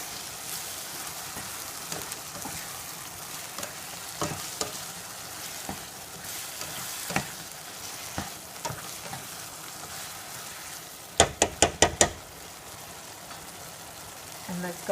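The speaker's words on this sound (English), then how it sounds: "while you are frying your tomatoes and your onions" Tomatoes and onions fry in a pan for albondiga soup, a steady crackling sizzle running throughout, stirred now and then, with a quick cluster of sharp clicks near the end.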